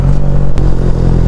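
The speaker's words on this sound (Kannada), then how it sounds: "ಟ್ರ್ಯಾಕ್ಟರ್ ಎಷ್ಟು ಜೋರಾಗಿ ಓಡಿಸ್ಕೊಂಬರ್ತಾವನಲ್ಲ ಪಾವ್" A tractor driven hard roars loudly and close by, a dense, steady low engine drone with rattling clatter and one sharp knock partway through.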